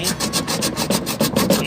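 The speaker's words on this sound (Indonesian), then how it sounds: "Oke, kita amplas sedikit lagi." Sandpaper rubs back and forth over a leaking refrigerator evaporator, a fast rhythmic rasping scrape repeating steadily and close up, with no talking.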